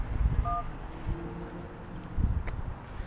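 A phone gives a short electronic double beep early on, clear against rustling, wind-like handling noise and low thumps.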